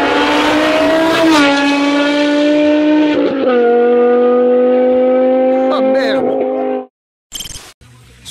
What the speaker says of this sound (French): ce moteur, avec quelques petites modifications, fait littéralement un bruit de Formule 1